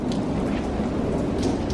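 Heavy rain falls on a sunny day around a Volkswagen MK7 Golf R under repair, a dense, steady hiss of drops with no pauses and no voices.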